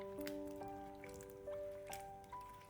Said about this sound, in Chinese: 然后倒入适量的清水，将苦瓜清洗一下，洗去苦瓜表面多余的糖分。